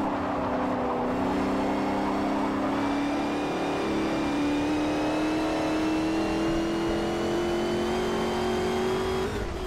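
Engine of a vehicle in the SUV & Sport Truck class racing on the Bernese Alps track in Forza Motorsport 4, with a steady, loud, continuous drone whose pitch climbs gradually while accelerating, no voices.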